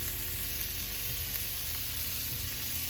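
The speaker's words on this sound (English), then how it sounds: "usually after the first bag's done, usually when I'll flip the sausage" Sausages sizzle and fry steadily in a hot pan, a close, even crackle that runs without a break and holds at the same level throughout.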